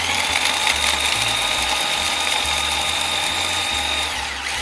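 Food processor grinding hazelnut gremolata ingredients with salt and pepper, a loud steady whirring motor with pulsing chop beats throughout, running alone and cutting off at the end.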